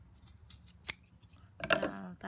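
Scissors snip through macrame cord at close range, with a few faint small clicks and then a sharp, crisp cut near the end.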